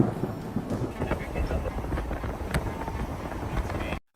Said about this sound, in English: Multiple lightning bolts strike a mountain under dark storm clouds in daylight.